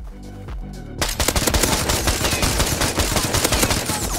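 Rapid automatic gunfire from the survival game Rust, loud and close, a sustained burst of shots in a dense irregular rhythm that starts abruptly after a brief quieter moment.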